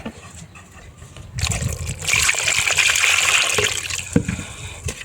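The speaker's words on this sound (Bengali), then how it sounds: "পটেটোগুলো ভালো করে ধুয়ে নেব।" Sliced potatoes being washed in a bowl of water, with a quiet trickle that swells into steady sloshing and splashing, then a sharper splash near the end, close by and with no talk.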